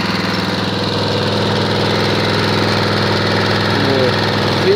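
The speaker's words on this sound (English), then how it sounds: "This is the mower on idle. Very, very nice noise." A second-hand lawn mower with a 3.5 horsepower overhead valve engine idles close by, a loud, steady, even drone with a fine rapid pulsing throughout.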